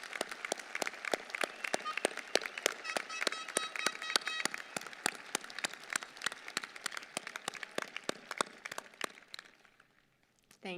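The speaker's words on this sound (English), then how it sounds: "Join me in applauding their service." An audience at a spring 2021 graduation ceremony applauds graduating service members with crisp, rapid clapping that stays steady, then thins and fades away near the end.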